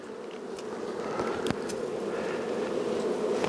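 Honey bees humming steadily inside an opened hive after a long winter, a close, continuous buzz with a brief sharper sound near the middle.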